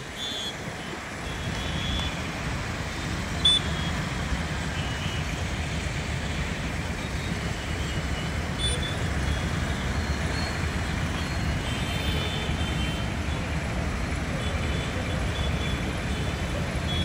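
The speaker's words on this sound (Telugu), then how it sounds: "చూడండి ఏ విధంగా ట్రాఫిక్ జామ్ అయిందో మీరు గమనించవచ్చు" A traffic jam on the main road at Elephant Circle, Mallapur, during festival holidays makes a continuous dense roar of idling and crawling vehicles, with a faint high beep rising above the steady din.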